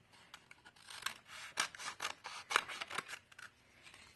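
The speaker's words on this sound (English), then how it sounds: "You'd roll your cone up like that, and I'm just going to cut off the excess right here" Scissors snipping through rolled paper forming a hat-pattern cone, a quiet series of about a dozen crisp, close cuts in an uneven rhythm with faint rustling between them.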